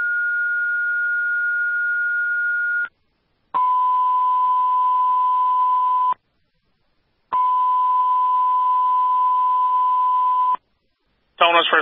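Fire dispatch alert tones for a second-alarm house fire in Swanzey, New Hampshire, come over the radio as long steady electronic tones separated by short gaps, loud and clear, with a higher tone first and then lower repeated tones.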